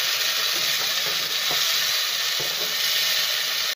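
Masala frying in a pan for raw banana and egg korma hisses in a loud, steady sizzle right after a little water is poured in, close and continuous with faint stirring scrapes.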